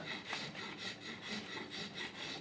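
A rasp files across wood in about eight steady back-and-forth strokes, a close, dry scraping rhythm with no talk over it.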